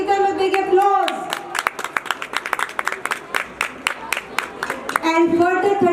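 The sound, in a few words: applause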